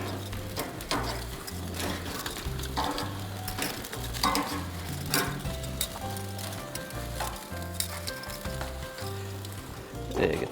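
Shrimp frying on a hot grill for tacos, a steady crackling sizzle with stirring and scraping over a low repeating musical bed, no talk.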